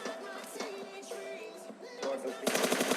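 Rapid automatic gunfire rattles in a PUBG match as a bot is killed, a tight burst of shots arriving near the end after quieter in-game sounds.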